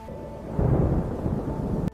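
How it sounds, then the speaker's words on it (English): Steady rain and rumbling thunder fill the scene, a broad continuous wash with a heavier swell about halfway through that cuts off abruptly near the end. "Yes, it is raining now."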